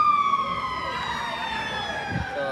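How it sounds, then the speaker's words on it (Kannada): An alarm siren wails loudly outdoors, its tone sliding steadily downward in a long sweep. "alarm siren ಹಾಕ್ತು"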